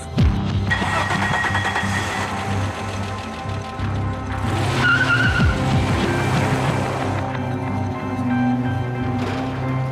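A car drives off with a steady engine hum, a brief tire squeal and rising revs in the middle, set under a low musical background.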